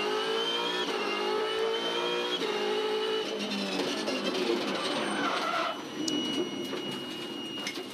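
Supercars race cars accelerate on track during a 2013 race at Auckland, giving a raspy, high-revving engine drone that rises and shifts with gear changes. The sound is moderately loud and fairly continuous, with no talking.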